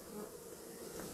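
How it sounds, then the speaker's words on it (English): Bees buzz steadily and close by, a continuous insect drone with no voices. "you can see all these bees around me"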